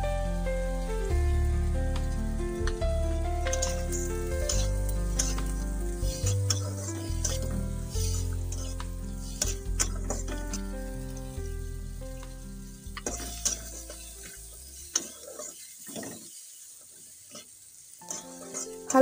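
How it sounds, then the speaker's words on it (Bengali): Whole spices and two green chillies fry in a little oil in a wok, giving a soft, steady sizzle with occasional stirring scrapes under background music, with no talk. "এবার একটা কড়াইতে অল্প একটু তেল দিয়ে সমস্ত কিছুকে দিয়ে হালকা করে ভেজে নেব।"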